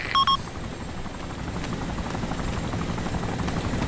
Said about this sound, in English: board that chopper